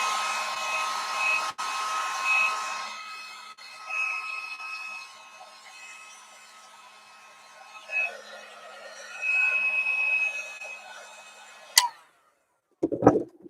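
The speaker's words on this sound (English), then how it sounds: "Let me try to dry this down real quick." A hair dryer blows on wet watercolor paint, running close and steady with shifting pitch, easing off mid-way, and cutting out near the end followed by a few knocks.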